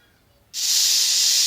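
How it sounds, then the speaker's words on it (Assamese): A pressure cooker cooking goat meat suddenly releases a loud, steady hissing whistle of steam after a moment of near silence. "এতিয়া মই কুকাৰত 6-7টামান চিটি দিয়ালোঁ"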